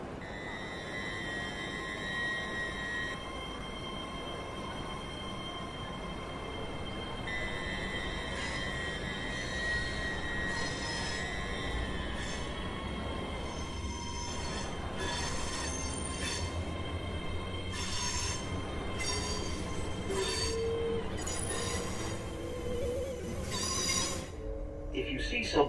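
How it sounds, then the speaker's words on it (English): A Class 805 Evero electric train in the Train Sim World 6 video game pulls away, a steady traction whine and rumble with rising tones and wheel squeal, running continuously and fairly loud, with a station announcement voice partway through. "And let's hear this train go."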